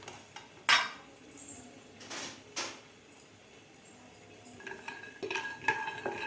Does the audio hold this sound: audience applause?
no